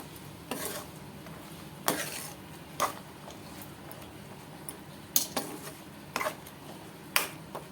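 Spoon knocking and scraping against a pot while lemon juice is stirred into hot chicken pickle, a handful of sharp metallic clinks spaced irregularly over a quiet background.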